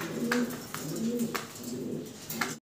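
A pair of small fancy pigeons of the jhorna shirting type coo steadily in low, rolling phrases, close by, with faint chirps and light background noise and no talk.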